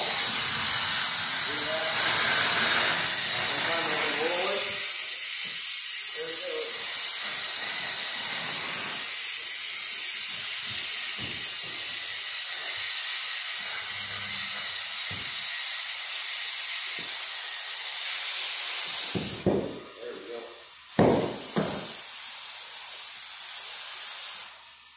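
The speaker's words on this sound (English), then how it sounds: "bring it back once the air compressor shuts off." An air compressor inflates a car tire to seat the bead on a leaking flat, giving a loud, steady hiss of rushing air that runs nearly throughout, with sharper bursts near the end.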